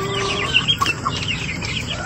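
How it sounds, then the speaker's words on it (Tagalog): Brown-neck chicks, some sick with coccidiosis, peep and cluck in a close, busy chorus of short, high chirps. There is no talk. "So andito tayo ulit sa ating mga sisiw."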